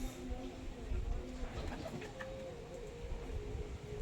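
Pigeons, including big feather-footed hens, give low soft coos over steady background noise and faint murmuring, the calling continuous and close throughout.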